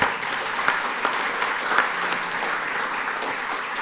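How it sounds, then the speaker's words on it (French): Conference audience at a geopolitics festival opening claps for the organisers, a continuous, fairly dense patter of applause with a few sharper claps standing out, moderately near. "Et je vous demande d'ores et déjà de les applaudir."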